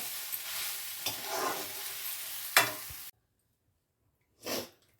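Potato filling for aloo methi parotta stirred in a hot pan, a soft sizzle with a few scraping strokes and a sharp clack, then a pause of near silence and one more brief stir near the end.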